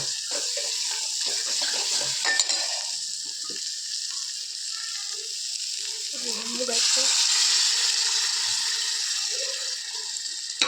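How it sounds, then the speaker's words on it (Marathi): Chutney roasting in a hot pan gives a steady broadband sizzle throughout, with occasional stirring scrapes and a louder swell of frying partway through; no one speaks. "चटणी तर चटणी जरा चांगली भाजूया"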